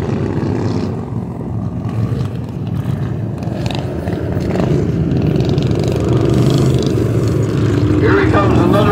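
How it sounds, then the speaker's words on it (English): Racing motor mower with a low V-twin engine, at a vintage fair track in Cornwall, drones steadily throughout, building louder toward the end, with a commentator talking over it. "Motor mower. Low V twin. Motor mower racing."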